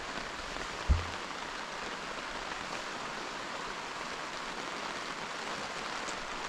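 Steady rain falls outside a hot tent during a morning rainstorm, a constant broad hiss of drops on the canvas with one soft thump early on.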